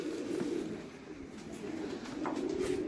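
Pigeons coo in a steady, low, rolling murmur that goes on throughout. It is soft and fairly distant, with no voices.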